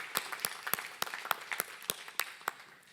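Audience clapping at an environment and business awards ceremony, a scattered round of hand claps with distinct individual claps standing out, moderately loud and tapering off toward the end.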